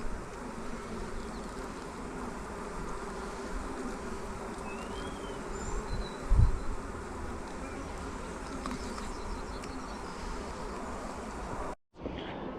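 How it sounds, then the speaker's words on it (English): Honey bees hum steadily around an open hive during an inspection, a dense, continuous buzz close by with a soft thump midway and a brief drop-out near the end. "These are nice light coloured bees."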